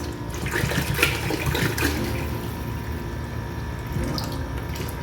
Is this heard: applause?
no